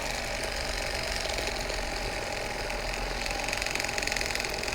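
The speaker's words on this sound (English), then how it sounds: "Man, this electric fillet knife makes the job so much easier though." An electric fillet knife buzzes steadily through a snakehead fish being cleaned, its motor drone continuous and close for the whole stretch, with no talk over it.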